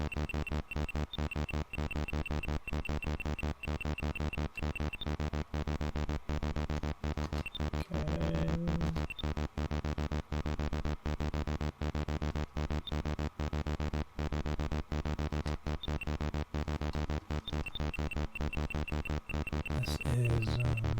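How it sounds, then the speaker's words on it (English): Synthesized engine drone of a car in the Commodore 64 game Head On, a steady buzzy rumble with rapid pulsing ticks running unbroken for about twenty seconds, loud and alone. "sounds like a car driving."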